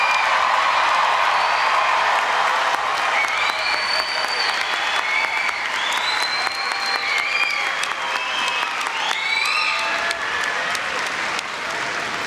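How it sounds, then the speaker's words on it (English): A large crowd at a spring commencement ceremony claps continuously for graduates, dense and sustained applause with scattered whoops and cheers rising over it. "let's give our most recent graduates one more round of applause"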